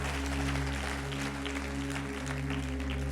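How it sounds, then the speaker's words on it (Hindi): Congregation clapping during a Sunday church service, a soft steady patter of many hands set back in the room over a constant low electrical hum. "फिर ताली बजा नहीं तो ढंग से बजा दो"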